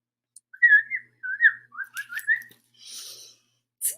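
A person whistles an imitation of birdsong during a children's story time, giving a string of short warbling, chirping phrases, clear and close, followed by a soft breathy hiss and one brief final chirp.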